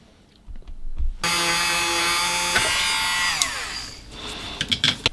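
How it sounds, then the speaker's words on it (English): Power drill boring a small hole into a Minix MR-73B radio's core, starting abruptly after a quiet moment and running as a steady, loud whine that winds down near the end, followed by a few sharp clicks. "I will drill a small hole and then increase the hole step by step"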